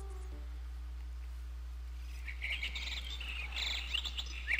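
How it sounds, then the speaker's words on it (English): Birds chirping in a woodland area of the video game War of Two Worlds, faint high twittering calls entering partway through over a steady low background hum. "Birds chirping, huh?"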